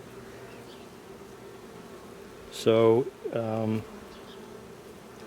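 Honey bees buzz around an open hive during a September inspection, a steady low drone under the scene while a person speaks briefly over it.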